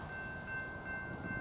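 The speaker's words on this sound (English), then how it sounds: "Our next train was the legendary Cadiz Local, being led by BNSF" A BNSF Cadiz Local freight train led by locomotive 7272 rolls past as a faint, steady low rumble with a thin sustained tone above it.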